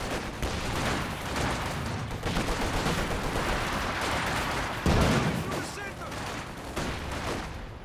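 Mortar fire and other battlefield gunfire in the strategy video game Company of Heroes 2, a dense, continuous rumble of shots and thuds through a 2v2 match, with caster commentary running over it.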